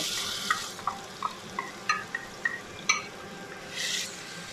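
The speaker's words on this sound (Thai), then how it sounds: "ผัดให้หอมก่อนนะคะ" Hot olive oil sizzles as shrimp paste is stirred into it for banana stem stir-fry, a soft steady fry marked by repeated spatula scrapes and clinks and a brief louder hiss near the end, with no talking.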